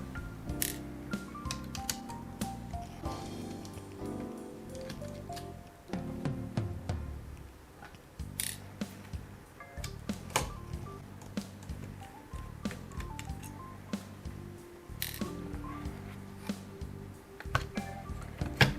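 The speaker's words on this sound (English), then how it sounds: "So let's go ahead and unscrew it." Small screws being backed out of an MSI GS63 laptop's fan, a series of light close ticks, clicks and taps scattered irregularly over low background hum.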